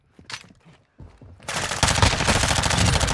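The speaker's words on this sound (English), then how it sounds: "Taking enemy fire!" Enemy gunfire in Modern Warfare II during an Embassy team deathmatch, starting with a few sparse shots and then swelling into a loud, continuous barrage of automatic fire.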